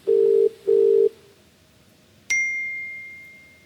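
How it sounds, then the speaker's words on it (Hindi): A phone call placed during a TV quiz show rings out with two steady buzzing ringback tones, then a sharp electronic ding that fades slowly. "लगा रहे हैं फोन।"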